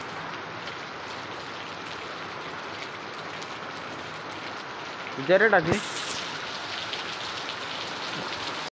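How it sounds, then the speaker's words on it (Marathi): Steady rain pours down outdoors on a wet afternoon, a dense unbroken hiss filling the whole stretch, while a person speaks briefly near the middle. "खूप एवढा पाऊस पडतोय"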